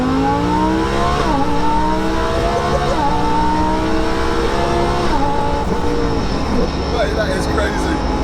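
A twin-turbo 1200 bhp Lamborghini Huracan accelerating hard in second gear, its engine note climbing steadily in pitch through several rising sweeps, loud and close, with people talking over it.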